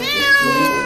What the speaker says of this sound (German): Psst, wo ist denn mein Kätzlein